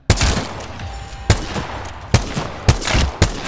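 Gunshots at targets in Apex Legends, fired with a scout rifle at a training range: five sharp, loud single shots spaced roughly half a second to a second apart, each with a short ringing tail, with no speech.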